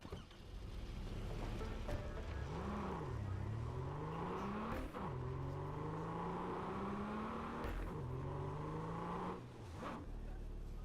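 Truck in the video game Cyberpunk 2077 driving with a steady engine drone, its pitch rising and falling through several gear changes, with brief knocks and thumps along the way and no talking.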